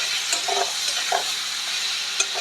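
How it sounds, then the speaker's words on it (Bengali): Vegetables seasoned with turmeric and cumin powder fry in a pan for a small-fish chorchori, giving a steady close sizzle broken by scraping stir strokes, with no talking. "সবজিটা আমার অনেকটাই ভাজা ভাজা হয়ে গেছে।"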